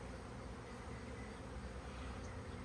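A honeybee swarm droning inside a hive box in a garden, a dense, continuous low buzz at steady volume with no talk over it.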